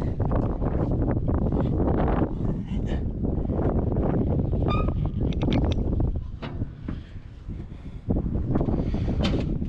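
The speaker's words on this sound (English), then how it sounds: "it's getting windy" Strong wind buffets and roars across the microphone in gusts beside a Caterpillar 773B haul truck, nearly constant with brief lulls, with faint rustling underneath.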